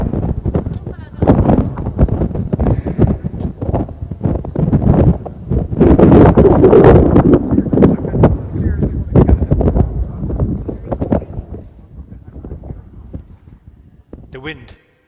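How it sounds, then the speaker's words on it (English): Wind blowing across Clew Bay on the Irish coast, gusty buffeting rumble that swells loudest midway and then eases, with people talking throughout. "The wind blowing. Did you hear the wind blowing?"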